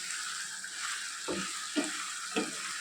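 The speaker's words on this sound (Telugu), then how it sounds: "కొంచెం ఫ్లేమ్ పెంచుకొని ఈ సమయంలో చికెన్ని వేయించుకోవాలండి" Chicken fries in a hot tempering over a raised flame, giving a soft continuous sizzle with three light scrapes of stirring, close but quiet and with no talking.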